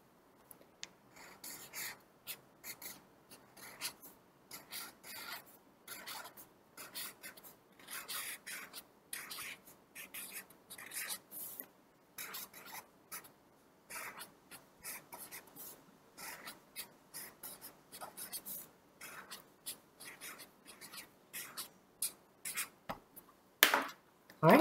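Pencil writing a sentence on paper, continuous scratchy strokes with short pauses between words, close and fairly quiet, with no voices.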